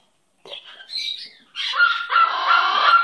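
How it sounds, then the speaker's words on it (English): A pet bird calls alone at close range with a loud, drawn-out raspy squawk that rises and continues for about two and a half seconds. "My little pretty bird."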